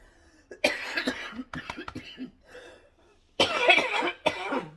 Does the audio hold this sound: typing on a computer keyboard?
no